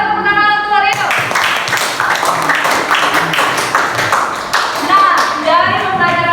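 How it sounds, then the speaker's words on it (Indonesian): Students in a classroom clap for a classmate, a burst of brisk, close hand clapping that starts after a short voice and continues throughout, with voices and a few shouts mixed in. "Silakan boleh tepuk tangan untuk Rino."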